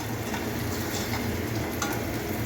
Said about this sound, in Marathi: आता गुलाबी होईपर्यंत आपण कांदा चांगला तळून घेऊया